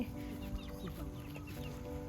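Chickens clucking softly around an elephant feeding spot, short scattered calls over a steady background hum, fairly faint and with no talk.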